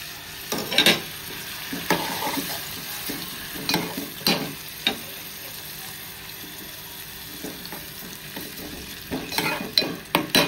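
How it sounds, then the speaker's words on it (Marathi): Tomatoes cooking in a pan over low gas for a prawn masala: a steady close sizzle with frequent scraping and clinking stirs that come in bursts, louder toward the end, and no speech. "टमाटर पूर्ण शिजेपर्यंत गॅस स्लो ठेवूया आणि व्यवस्थित टमाटर शिजवून देऊया"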